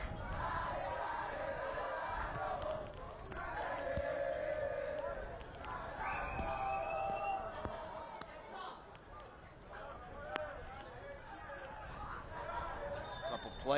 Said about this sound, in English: Crowd at Rock Chalk Park supporting the home side here tonight.